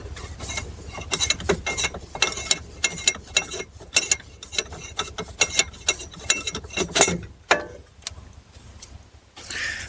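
Ratchet clicking in rapid bursts while loosening and removing an old inner tie rod on a 2010-2016 Buick, close and fairly quiet, with short pauses and metallic clatter between runs.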